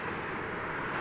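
An American Airlines Airbus A321 arriving at Dallas Fort Worth from Houston produces a steady, loud broadband jet roar that holds evenly through a brief moment.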